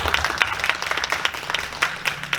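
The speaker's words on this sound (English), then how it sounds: "give a clap" A conference audience gives a short round of applause, a steady patter of many hands clapping at moderate loudness.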